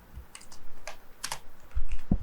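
Keys tapped on a computer keyboard while entering a SQL DROP TABLE statement in MySQL Workbench: a few scattered clicks, with a couple of louder thumps near the end, fairly close and with no talking.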